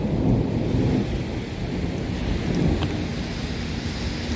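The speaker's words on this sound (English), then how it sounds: "Rain's really coming down." Heavy rain pours steadily during a severe thunderstorm on Dauphin Island, Alabama, a dense continuous roar with low rumbling beneath it.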